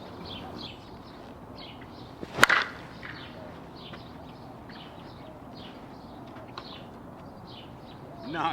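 A single sharp crack of a 2024 Proton Legacy Inverse USSSA slowpitch softball bat striking a ball rings out mid-clip, with faint birdsong and quiet outdoor ambience around it.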